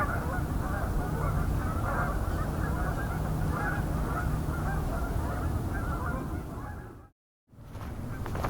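A large flock of about 300 Canada geese honks from roughly a kilometer away, a dense overlapping chorus of calls over wind noise, steady for several seconds before cutting out briefly near the end.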